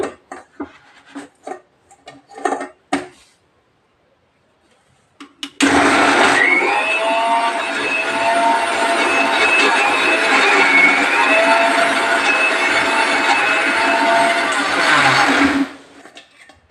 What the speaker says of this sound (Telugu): ఇప్పుడైతే మిక్సీ అయితే వేసుకుందామండి